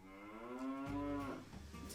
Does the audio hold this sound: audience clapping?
no